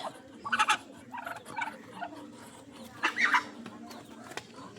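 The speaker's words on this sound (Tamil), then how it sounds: "இது ரெண்டும் நம்ம மணி வாத்து நண்பர்களே." Ducks call in several short, raspy bursts, separated by quieter gaps, heard at a modest distance.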